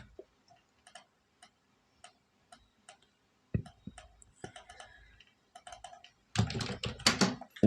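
Keys tap on a computer keyboard as stock figures are entered, sparse single clicks at first that grow into a denser, louder burst of typing toward the end.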